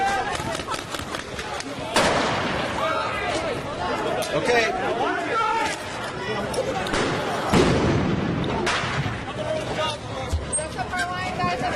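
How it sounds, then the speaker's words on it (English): Loud bangs of fireworks thrown from a street corner go off amid a noisy crowd, with sharp blasts near 2 and 7.5 seconds over constant chatter and shouting, and a voice speaks briefly. "He's throwing fireworks from that corner."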